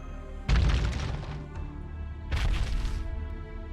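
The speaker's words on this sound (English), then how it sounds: "I heard 5 thuds" Heavy thuds of characters dropping into a pitfall trap in the video game Fate GO, two loud, booming impacts about two seconds apart, each ringing out briefly.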